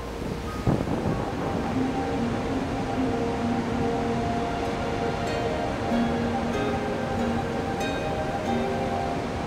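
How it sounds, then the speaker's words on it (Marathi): A waterfall crashes down a broad cliff at Anuskura Ghat, its spray whipped by strong wind, heard as a steady loud roaring wash with gusty wind noise throughout. "कड्याचा विस्तारही असा खूप आहे आणि त्यावरून तो धबधबा कोसळतो. वाऱ्याने तुषार उडतात"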